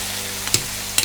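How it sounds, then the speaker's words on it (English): Gnocchi frying in melted butter with a little olive oil, a steady close sizzle broken by two brief scraping stirs or clinks, no talking. "Drain off your gnocchi"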